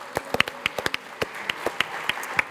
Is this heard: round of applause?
yes